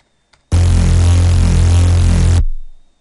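Gritty Reese bass synth made in FL Studio with overdrive distortion, one sustained, dense, buzzing drum-and-bass note held for about two seconds, loud and alone, then fading out.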